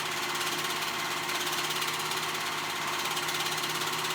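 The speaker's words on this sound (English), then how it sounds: "Sewing those sides together" A sewing machine runs steadily through a dress side seam, a continuous even motor hum with rapid needle chatter, close and constant from start to finish with no talking.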